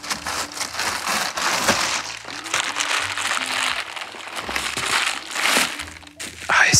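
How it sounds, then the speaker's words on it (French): Bubble wrap being squeezed and crinkled close to the microphone, irregular bursts of crackling plastic with occasional soft pops, with quiet low sounds between the handling. "Tu apprécies ce bruit des bulles qui se prélassent."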